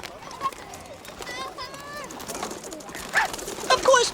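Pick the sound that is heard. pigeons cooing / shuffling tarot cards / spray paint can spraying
pigeons cooing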